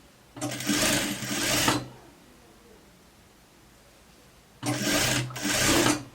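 A domestic sewing machine topstitches a raglan-sleeve coat, running in two loud, steady bursts of rapid stitching separated by a few seconds of quiet room hiss.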